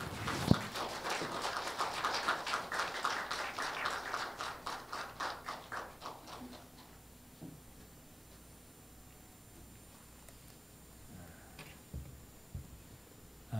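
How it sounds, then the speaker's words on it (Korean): A church congregation welcomes a university president as guest preacher with brisk, steady applause that fills the room for about six seconds, then fades to a quiet hall with a few scattered claps. "우리 총장님 나오실 때 박수로 환영하시겠습니다"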